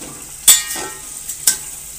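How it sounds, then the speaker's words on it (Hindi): Chicken pieces dropped into frying masala in a pot for yakhni pulao give a sharp sizzling burst, then a second hiss about a second later, with light stirring between. "मसाला भुन गया है तो अब इसमें मैं चिकन डालूंगी।"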